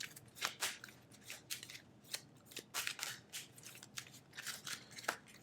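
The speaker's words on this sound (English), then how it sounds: "I have to shuffle everything." A deck of playing cards is shuffled during a Legendary Marvel card game: quiet, close, rapid papery flicks and snaps in uneven bursts, with brief pauses between them and no talking.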